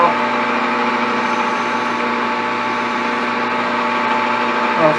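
A lathe chamfers the edge of a copper fidget spinner button, producing a loud, steady machine drone with a constant tonal hum that barely changes throughout.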